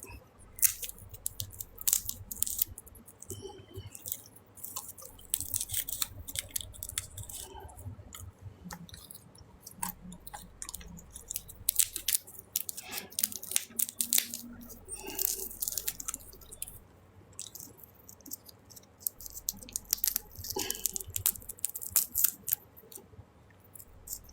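Nuts being chewed and eaten up close, with irregular crunchy bites and wet mouth sounds repeating throughout, no talking.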